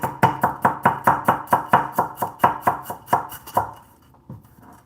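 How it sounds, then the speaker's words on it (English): Knife chopping okonomiyaki ingredients on a cutting board, a fast even run of about fifteen crisp, close thuds that slows and stops near the end, with no talking. "it's an easier time to cut with the knife."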